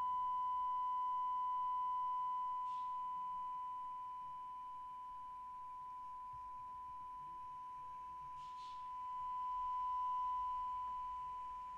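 A steady pure test tone holds one unchanging pitch for the whole stretch, alone and at a constant level, with only a couple of faint brief clicks in the background.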